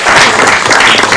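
An audience at a city council committee meeting breaks into a burst of loud clapping, many hands at once, dense and steady for about a second.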